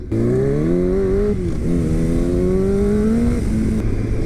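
A Yamaha R1 motorcycle on a ride to work, its engine droning loud and close with rising and falling pitch as it accelerates and shifts gears, a steady revving roar throughout.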